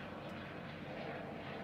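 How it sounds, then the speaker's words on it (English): Sheriff's helicopters circle overhead at night, a faint, steady distant drone that holds without a break and has no talk over it. "damn sheriff's helicopters over here."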